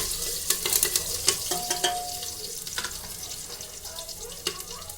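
Curry leaves and garlic crackle in hot tempering for dal, a soft sizzle under sharp popping spatters and a few scraping stirs, fairly quiet and close.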